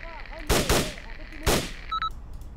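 Hip-fired rifle shots in the military game ARMA: two or three sharp, loud bangs about a second apart, close by, with game ambience and a short electronic tone after them.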